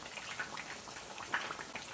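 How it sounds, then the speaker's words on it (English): Battered Flamin' Hot Cheeto chicken fries in hot oil, a faint, steady crackling sizzle like light rain with scattered soft pops, heard alone at low volume. "Okay, this is how you want it frying."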